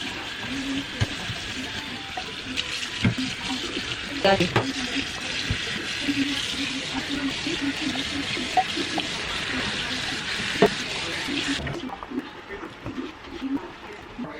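Tap water runs steadily while a grimy salvaged object is rinsed and scrubbed clean, a continuous hiss with clattering handling noises, cutting off near the end, with a person talking over it.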